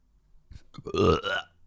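A woman gives a single loud, drawn-out burp, close and alone, rising from a few short guttural sounds into a sustained croaky belch.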